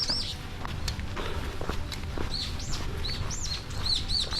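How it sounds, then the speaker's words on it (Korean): Bright bird chirps and whistled calls repeat over steady footsteps on a pine forest path, the song fairly close and clear outdoors. "뒤에 새소리도 좋고요"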